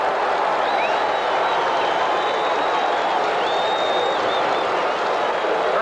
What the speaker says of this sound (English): Hurley getting a nice round of applause as he's helped to the Jets' dressing room.